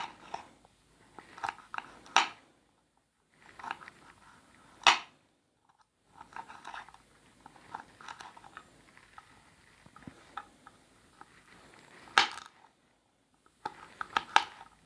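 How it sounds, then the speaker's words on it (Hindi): A knife cuts almond kernels on a board, producing close, crisp clicks and crunchy taps in uneven bursts with short pauses between them. "ये बादाम की गिरी है जो इसी तरह ही आपने काट लेना है।"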